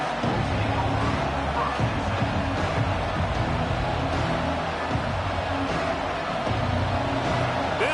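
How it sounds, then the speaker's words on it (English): A large stadium crowd at a Cincinnati vs LSU football game roars steadily in the distance, a dense wash of cheering and noise with a voice speaking over it. "Crowd bringing the energy and noise early."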